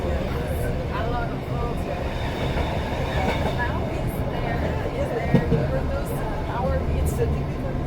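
Steady rumbling and rhythmic clatter of a passenger train riding toward St. Moritz, Switzerland, heard from inside a coach, with occasional faint wheel squeals and people talking over the continuous noise.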